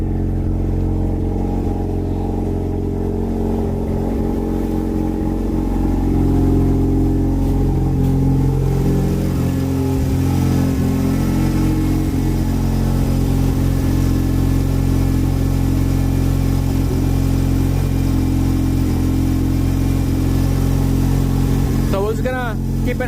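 A Mazda RX-7 FD rotary engine idles steadily during an oil pressure test, a loud continuous hum that holds for the whole stretch while a voice talks over it.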